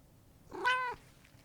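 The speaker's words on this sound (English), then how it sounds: "Hi, little kitty cat." A cat gives a single close, clear meow lasting under half a second, rising and then falling, in an otherwise quiet room.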